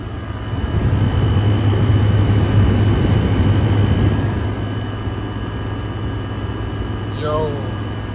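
An air conditioner runs in cool mode with its compressor working hard, giving a loud, steady low hum and whooshing airflow throughout, with a faint brief chirp near the end.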